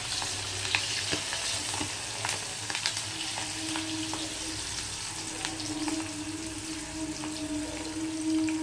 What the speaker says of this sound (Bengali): এটা একটু জল টল আছে মনে হয়, সেই জন্য ফুটছে